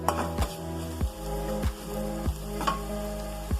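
Beans and potato curry stirred in a pan, heard as a steady close sizzle with a regular scrape of the spoon against the pan about every half second, loud and without voices.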